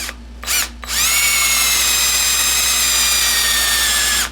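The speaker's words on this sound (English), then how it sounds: "I've changed over to a brad point bit to drill it just a little bit deeper" A power drill fitted with a brad point bit, drilling into a coffee table stand, starts with two short bursts, then runs continuously at a high, steady whine, loud and close.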